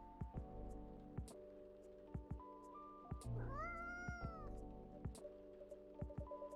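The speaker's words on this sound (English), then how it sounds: "That's just a cat." A single drawn-out cat meow sounds mid-clip in the café video game Coffee Talk, close and distinct, amid soft background music with repeated plucked notes and faint rain.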